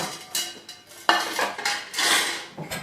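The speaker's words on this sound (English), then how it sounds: "We take all the pans out" Metal pans clatter and clank as they are lifted out of a cupboard beside a Rayburn stove, a series of close, sharp knocks and scrapes at an irregular pace with no talking.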